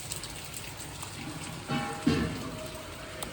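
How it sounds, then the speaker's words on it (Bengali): Heavy monsoon rain pours down steadily in a dense, even hiss close by, with a few brief thuds and clatters breaking through partway. "প্রচুর বৃষ্টি জাঁকিয়ে আসছে পুরো একদম"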